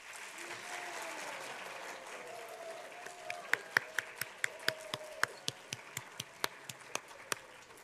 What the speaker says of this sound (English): So let's have one final round of applause.